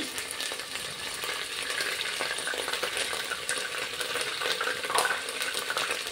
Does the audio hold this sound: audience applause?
no